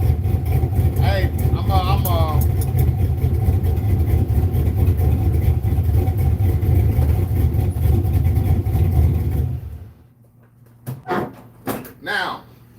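Oldsmobile V8, originally from a 5.3 carbureted setup with nitrous, now in a 6.0 fuel-injected build, idling with a steady low rumble under voices before it shuts off, leaving quiet with brief sounds.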